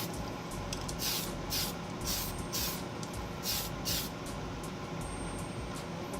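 An aerosol spray can applies primer to plastic model parts in a series of short hissing bursts, close and steady, with brief pauses between each spray pass and no talking.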